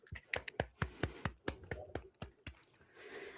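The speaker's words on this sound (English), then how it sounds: "we'll have a 5-second clap for Dame Laura Kenny." Scattered clapping from a small live comedy show audience: about a dozen sharp, separate claps in an uneven rhythm over three seconds, close and distinct, then a soft murmur of room noise.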